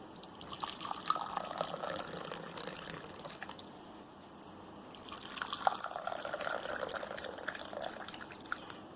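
Hot water poured into glasses during a product demonstration, a soft continuous liquid pour with faint trickling and dripping, two pouring passes separated by a short pause, close but quiet.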